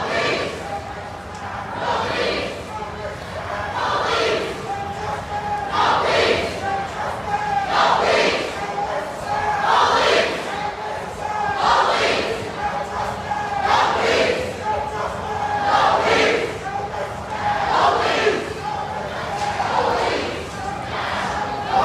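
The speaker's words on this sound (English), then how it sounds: "So there are just going to be multiple different chants throughout the crowd" A large protest crowd in Charlotte, North Carolina, during the June 2020 George Floyd protests chants in loud rhythmic bursts repeating every couple of seconds, with several overlapping chants and voices.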